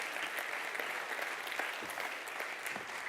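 Audience at a design conference applauding, a dense, steady wash of many hands clapping throughout, fairly distant and moderately loud, with no talking over it.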